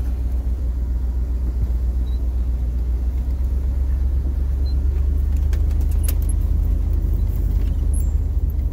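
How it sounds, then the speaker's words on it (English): Riding inside a bus: steady low engine rumble and road drone throughout, with faint rattles and jangling of loose fittings higher up, no voices. "I hate riding on the bus."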